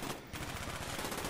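Rapid automatic gunfire in Call of Duty: Black Ops on PC, a steady rattle of closely spaced shots after a brief opening gap, moderately loud and without talk.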